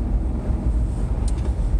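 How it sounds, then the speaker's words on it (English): Worn, failing wheel bearings on a moving car give a continuous low whirring rumble inside the cabin, steady and droning with faint wind noise over it and no talking. "I think it's the wheel bearings on the car are going."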